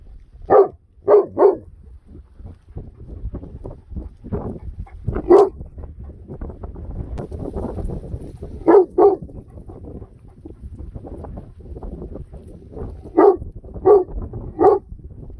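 A dog beside a sheep flock barks in short bursts of two or three deep barks, spaced apart, with quieter shuffling and low noise between them.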